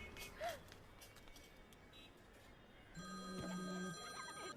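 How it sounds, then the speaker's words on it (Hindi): A telephone rings with a steady electronic trill in the second half, after a quiet stretch with a faint chirp and light background noise. "फिर से फोन कर रहा है।"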